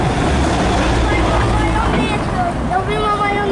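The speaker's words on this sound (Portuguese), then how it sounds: "O carro atrapalha tudo, pessoal. O barulho." A car passes through a narrow street in Loulé, Portugal, its engine rumble loud and steady throughout, with people talking and murmuring in the background.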